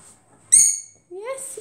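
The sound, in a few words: pet lovebird calling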